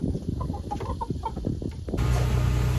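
Several chickens cluck near a backyard coop, a steady close chorus of short overlapping calls with a louder wash of noise toward the end.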